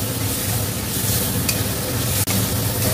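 Vegetarian ghugni being stirred in a hot pan after sugar is added, with constant loud sizzling and scraping movements up close, a brief gap near the end.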